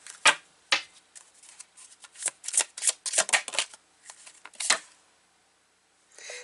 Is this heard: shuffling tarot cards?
yes